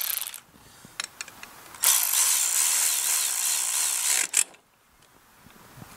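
A ratchet tightens the valve cover bolt on a Briggs & Stratton 190cc engine in a Toro TimeMaster mower, with a few clicks, then a sustained bright ratcheting buzz and a final sharp clack.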